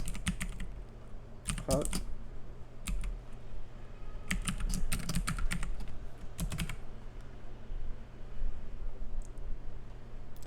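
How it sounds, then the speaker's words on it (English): Fingers tap out a name on a computer keyboard during a cloud network setup, the clicks coming in quick bursts separated by pauses, fairly close, with a brief spoken word partway through. "under instance details, let's type in the name"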